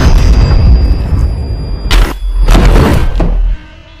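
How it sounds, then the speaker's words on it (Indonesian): A gunshot to the head in the 2016 horror film Don't Breathe: a loud, heavy boom cuts through tense low rumble, followed by a second broad burst and a fading thud, with no voices. "si Abah pun langsung menembak kepala si Mani dan seketika dia tewas"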